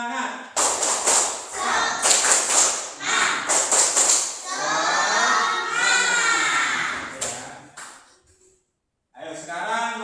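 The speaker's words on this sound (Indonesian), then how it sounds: "Ayo tepuk semangat." Classroom of children doing a rhythmic spirit clap in a school lesson, bursts of sharp patterned claps mixed with chanting voices and a teacher talking, pausing near the end before resuming.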